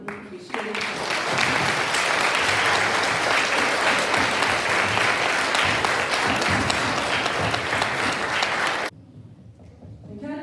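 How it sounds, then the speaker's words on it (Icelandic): A school end-of-year ceremony audience for grades 1 to 5 breaks into loud, dense applause that holds steady for several seconds, then cuts off abruptly into near quiet. "við skulum gefa henni gott klapp"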